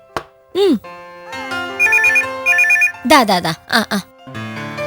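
Telephone ringing in a Malayalam TV drama, heard as an electronic ringtone with repeated trilling bursts and chirping tones, close and loud, under a voice and other talk.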